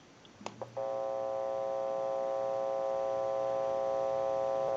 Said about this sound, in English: You may hear a little bit of a hum or electronic noise.